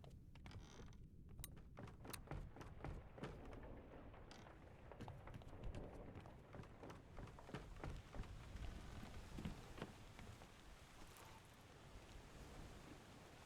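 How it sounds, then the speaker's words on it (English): Rain in the video game Return of the Obra Dinn, a quiet continuous hiss of rainfall with many sharp creaks and wooden ship knocks scattered through it, no talking. "Rain is getting worse though"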